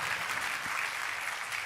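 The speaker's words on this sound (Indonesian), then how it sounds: "Tepuk tangannya paling meriah buat Tuhan kita" Congregation applause during a Christian sermon, a steady wash of many hands clapping that fills the room evenly for the whole stretch, with no voices rising above it.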